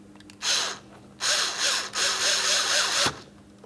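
A power driver runs screws into the plastic switch panel of a Mitsubishi Outlander, with three close whirring bursts of about one second each and brief pauses between them.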